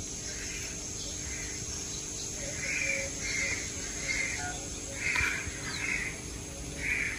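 Crows caw from a guava tree in a garden setting, a series of harsh calls in uneven bursts, some near and some farther off, over a steady background hum and insect-like drone.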